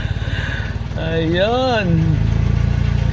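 A car engine, its wiring repaired after an engine bay fire, catches on a single crank and settles into a steady, throbbing idle up close, with people talking over it.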